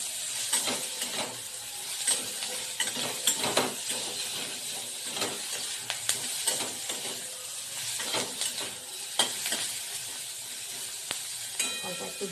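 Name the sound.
spices and garlic frying in a pan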